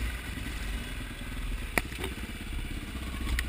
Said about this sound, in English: Two-stroke. I smell two-stroke Tom.